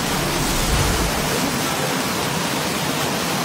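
Rushing floodwater from Typhoon Christine surges around a bridge in Legazpi, Albay, a loud, dense, continuous roar of churning water, close and unbroken, with no voices.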